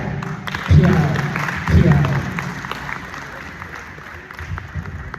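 Thin, scattered applause from a live audience, moderately loud at first and then tapering, with crowd noise and voices mixed in.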